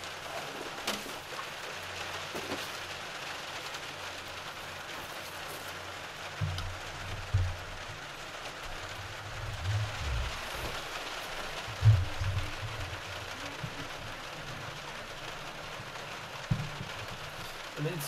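Steady rain patters outdoors on a farm, a soft continuous hiss with occasional louder drops and faint background thumps.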